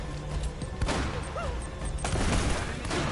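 A grenade explodes in Uncharted: Drake's Fortune amid gunfire, giving a couple of broad crashing bursts over a steady rumble of combat noise.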